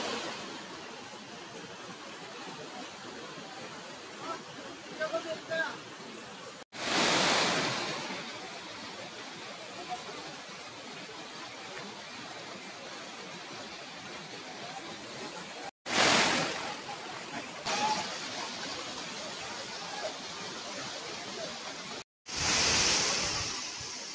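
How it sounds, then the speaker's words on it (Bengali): Khaiachhara waterfall in the hills gives a steady, broad rushing wash of falling water at close range, interrupted by a few abrupt cuts and louder surges. "এই যে দেখুন ঝর্ণা।"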